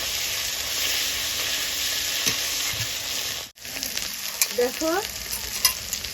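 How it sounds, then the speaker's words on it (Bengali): Spice paste with Kashmiri chili powder sizzles loudly in hot oil, a dense steady hiss broken by stirring scrapes and a brief dip, close up; a voice speaks a single word partway through. "মশলাটা আমার ভাজা হয়ে গেছে, মশলা থেকে তেল ছেড়ে দিয়েছে।"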